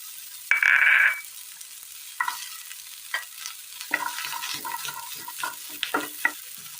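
Onions tipped into a hot frying pan after okra has softened and been removed, a brief loud burst of sizzling followed by quieter crackling frying with scattered scraping and stirring sounds.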